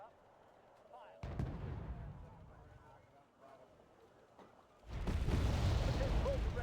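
Artillery firing in a war video game, a sudden heavy boom followed by rumbling, then a second louder sustained blast, with voices talking in the background.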